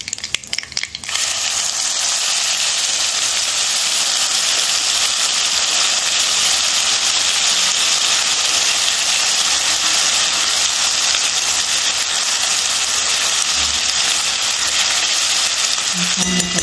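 A ground spice paste with asafoetida sizzles steadily in a hot pan while being sautéed for Kashmiri dum aloo, a loud, continuous hiss that runs alone throughout.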